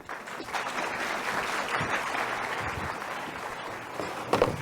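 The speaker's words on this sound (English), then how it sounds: "y'all clap for them when they leave the stage" An audience claps steadily as people leave a stage at a church gathering, a dense, sustained patter of many hands that holds fairly even throughout, with a brief louder burst near the end.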